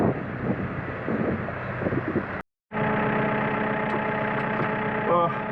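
A farm tractor's engine idles in steady low tones outdoors, with wind buffeting the microphone. Sound drops out briefly midway and then the idle resumes.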